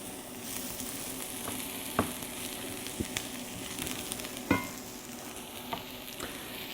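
Food sizzles in olive oil while being stirred, a steady fry with occasional scraping clacks of a utensil against the pan.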